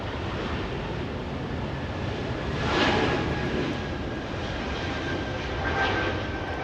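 A small Delta jet airliner bound for Portland passes at Los Angeles International Airport, a steady, fairly distant engine rumble with wind-like hiss and a faint tonal whine, swelling gently twice.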